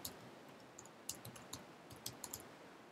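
Quiet, irregular clicking of keys being typed on a computer keyboard, light taps scattered close by with no voices.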